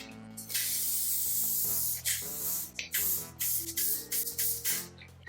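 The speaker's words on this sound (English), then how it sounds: "I'm taking my Flex and Tahoe Got2b and I'm going to spray a little bit on top of the gel like this" Got2b hairspray sprays in long, steady hissing bursts onto styling gel on a wig, with brief pauses between the pumps and soft music playing underneath.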